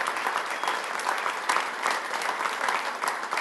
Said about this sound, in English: We want to give a little round of applause to our